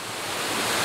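Ghost Waterfall in Sindupalchowk pours in a steady, broad rushing hiss, loud and unbroken for a brief moment with no voices.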